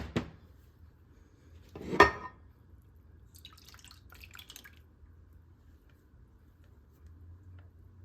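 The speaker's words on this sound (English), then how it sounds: "I'm going to try to just get some of this ketchup off of the cup and get it into the pan" Ketchup is scraped from a 4-cup measuring cup into a pan, with a sharp knock at the start, a louder clunk about two seconds later, then faint soft scraping in an otherwise quiet room. No talking.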